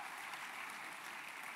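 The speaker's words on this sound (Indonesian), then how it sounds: "Tepuk tangannya yang paling meriah buat Tuhan kita." Church congregation applauding during a sermon, a steady wash of many hands clapping at even volume throughout, fairly distant and diffuse with no voices on top.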